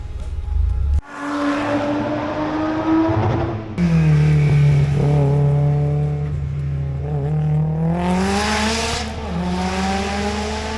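A race car runs a final heat on the Ltava track in Poltava, its engine loud and close, revving high and dropping with gear changes and sustained pulls.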